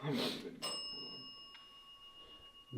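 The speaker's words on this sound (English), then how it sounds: "Bell's already going off." An electronic bell device going off during an overnight ghost hunt at Edinburgh Manor, a steady high ringing tone lingering after an opening burst of voices, faint and thin behind the room's hiss.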